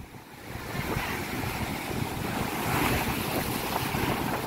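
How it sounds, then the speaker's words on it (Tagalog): Heavy surf from large storm waves crashes and roars continuously, with wind buffeting the microphone; no voices, just a dense wash of breaking waves close by. "Grabe ang lalaki ng alon guys."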